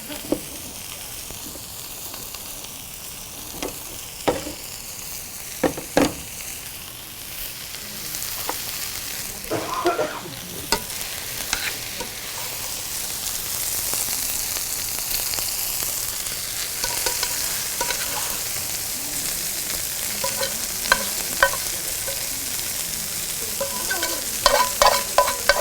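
Spinach, mushrooms and peas sizzle and crackle in a hot pan with a steady hiss, punctuated by occasional sharp pops and utensil scrapes as they are stirred.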